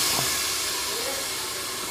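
Chicken pieces going into a hot pot set off a steady, close hiss that runs the whole time with little change in loudness.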